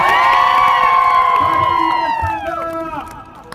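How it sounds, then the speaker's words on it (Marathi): A crowd at a political rally in Mahud, Sangola taluka, greets Dr Shrikant Shinde with loud, sustained cheering, whoops and shouting voices that fade slightly near the end. "तुम्ही सगळ्यांनी दोन हात वर करून जोरात टाळी वाजवून"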